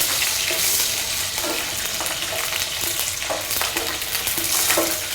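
Mustard seeds and dried chillies sizzle steadily in hot frying oil, a loud continuous hiss dotted with crackles and the scrape of stirring.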